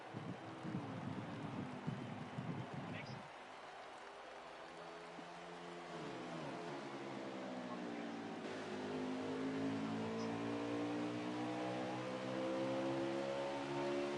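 Race trucks at Bristol Motor Speedway in the CFRL Midweek Series roar past, engine notes rising and falling with a Doppler sweep as they accelerate down the straight, loud and steady with wind buffeting the microphone.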